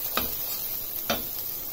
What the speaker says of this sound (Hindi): ये देखिए, बहुत अच्छी खुशबू आने लगी है, बहुत अच्छा सा ये भुन गया है।